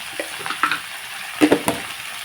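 Broad beans fry in oil in a pan while being stirred with added salt, producing a faint sizzle under a few irregular scraping and clinking stirs, close by and without any voice.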